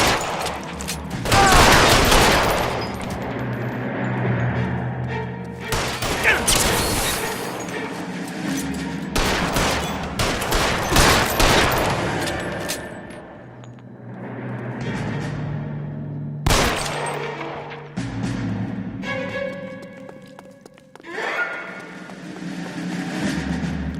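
Machine-gun gunfire in the video game L.A. Noire, loud and sustained in repeated bursts with brief gaps, echoing booms between volleys.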